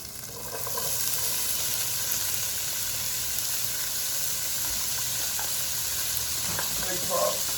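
Green pepper and yellow onion sizzle steadily in hot olive oil with garlic in a pan, a loud continuous broadband hiss with occasional stirring clinks near the end.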